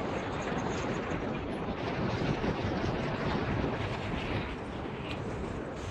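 Sea waves surge and break on the Konkan shore, a loud continuous wash of surf with heavy wind rumble buffeting the microphone and no voices.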